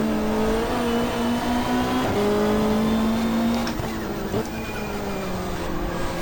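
A BMW touring car in Diet Coke livery runs in the GTR2 racing game during a 1995 Australian Super Touring race at Calder Park, its steady engine drone shifting pitch as it passes close by, with a brief tire squeal.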